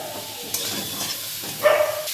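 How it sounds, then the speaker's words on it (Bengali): A pan of cauliflower, tomato and turmeric being stirred for a Bengali moong dal, with a few soft scrapes and clatters and a faint sizzle, quiet and close. "একটু ভালো করে কপি আর টমেটোটার সাথে নাড়াচাড়া করে নিচ্ছি"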